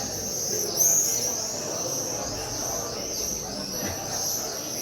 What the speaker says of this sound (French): Les oiseaux, t'as vu?